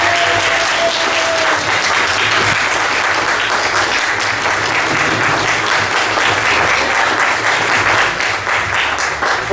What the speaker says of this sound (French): Bien, on peut les applaudir donc.